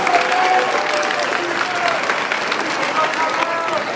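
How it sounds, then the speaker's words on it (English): A crowd at an eighth grade middle school graduation ceremony gives sustained applause, dense and even throughout, with voices and cheers faintly underneath. "Let's have a round of applause, please."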